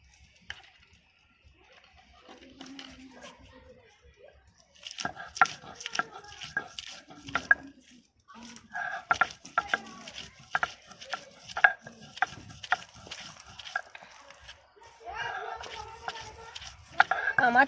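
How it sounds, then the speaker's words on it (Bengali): Coriander leaves and green chillies are ground together by hand, heard as close, rhythmic scraping and knocking strokes that start after a quiet opening and continue in uneven bursts with short pauses. "এবার আমি ধনেপাতা আর কাঁচা লঙ্কাটাকে বেটে নিচ্ছি"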